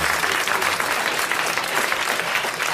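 Studio audience applause on a 1982 French television panel show, a dense, loud, continuous clapping that fills the whole stretch with no talk over it.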